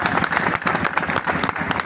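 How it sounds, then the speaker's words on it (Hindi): A crowd at a Mission Shakti women's rally in Mau claps together in a dense, continuous wash of applause, loud and close throughout the brief burst. "सभी लोग जरा तालियां बजाइए एक बार"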